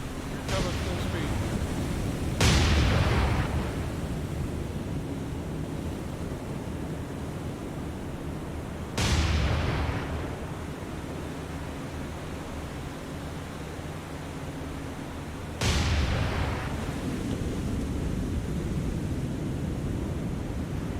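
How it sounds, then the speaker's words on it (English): Three heavy, booming secondary explosions several seconds apart roll over a constant low engine-and-sea rumble during a naval battle in the War on the Sea video game, Operation Watchtower, each blast loud and slowly decaying. "Big secondary explosion."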